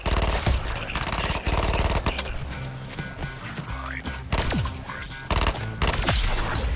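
Rapid automatic gunfire from a video game, fired at a target in loud, dense bursts that cut off briefly and resume over a steady backdrop of game sound.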